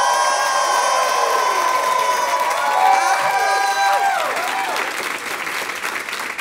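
Studio audience applauding and cheering loudly and continuously for a drag performer's engagement announcement, a dense steady wash of clapping with whoops and shouts throughout.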